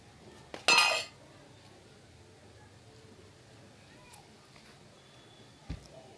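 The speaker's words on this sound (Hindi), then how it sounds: "अब मैं आपको डिश आउट करके दिखाती हूँ" A spoon clinks sharply against a dish once while egg curry is served, followed by quiet room tone and a faint second tap near the end.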